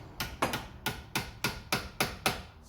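Repeated metal-on-metal hammer taps on a flat screwdriver wedged to spread a ball joint on a 2009 Vauxhall Zafira during wishbone replacement, about nine sharp, evenly spaced strikes, close and clear.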